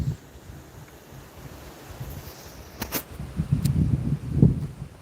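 Outdoor wind buffeting a microphone, a low rumbling roar that swells and gusts unevenly, growing stronger toward the end with a few sharp crackles, close and fairly loud with no talk.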